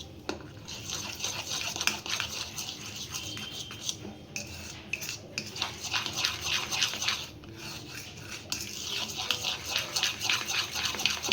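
A spoon scrapes and clinks against a bowl as crushed Oreo biscuits, sugar and milk are mixed into a paste for a homemade cake, an irregular run of close scraping and stirring strokes with no voices.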